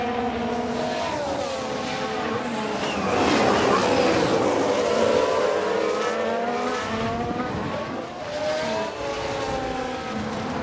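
A Ferrari Formula One car races past in F1 Manager 22's 1995 season, its high engine whine rising and falling in pitch as it accelerates and passes, loud and steady throughout.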